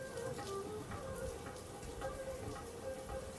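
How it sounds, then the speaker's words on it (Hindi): Steady monsoon rain falls and patters on surfaces, a constant soft hiss with scattered drips, fairly quiet and without any voices. "पड़ रही है तो वो शरीर को ठंडा कर रही है,"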